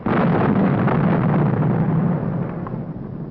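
An atomic bomb burst in vintage 1950 footage makes a loud, sustained, rumbling roar that fills the clip for over three seconds. It swells early and then slowly fades, with no voices over it.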